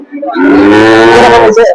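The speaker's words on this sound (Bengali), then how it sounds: "এদিকেও আরো অনেক বকনা আসছে বেশি বকনা" A single loud, close moo from a young heifer at a livestock market, long and drawn out, rising and then holding before it cuts off, with nothing else around it.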